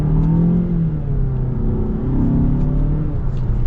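A 2021 Mazda 6 GTR Turbo accelerates, its engine note rising in a steady, loud, continuous drone heard from inside the cabin, with no talk.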